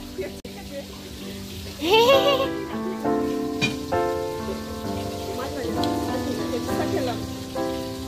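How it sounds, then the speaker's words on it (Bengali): Fish frying in oil in a home kitchen, a soft steady sizzle and crackle running beneath a woman's speech and background voices. "আমি এখন এখানে বসে মাছ ভেজে দিচ্ছি"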